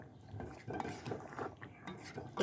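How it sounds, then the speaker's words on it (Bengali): Metal clinks and scrapes of a lid settling onto a pot of chicken biryani meat, several short knocks spread over a couple of seconds with light kitchen handling noise around them. "এবার আমি মাংসটা আবার একটু ঢেকে দিয়ে দিচ্ছি"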